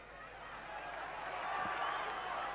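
A football stadium crowd at a 1990 friendly between Colombia and the USSR roars steadily in support of Colombia, a broad wash of noise swelling slightly louder toward the end with no clear voice above it.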